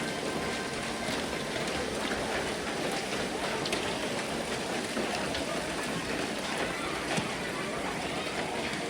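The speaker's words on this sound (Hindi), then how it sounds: "हर एक ओले के गिरने की आवाज जैसे धरती पर चोट करती है।" Hail and rain pound the ground on a mountain pilgrimage trail to Vaishno Devi, a dense, steady hiss of hard drops that stays loud and unbroken throughout, with no pauses.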